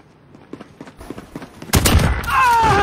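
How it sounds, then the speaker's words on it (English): Video-game gunfire erupts after a stretch of quiet, clicky sounds, turning into a loud, dense burst of shots that runs to the end over continuing noise. "Now I'm gonna start shooting somebody."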